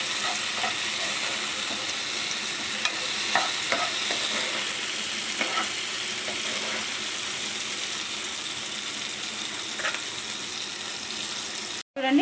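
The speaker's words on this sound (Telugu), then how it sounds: "ఇలా బాగా మనం నూనెలో ఫ్రై చేసుకోవాలండి" Tomato and tamarind frying in hot oil for mint-tomato pachadi, a steady close sizzle with scattered scraping clicks as a spoon stirs the pan, no voices, ending in a brief break and clatter.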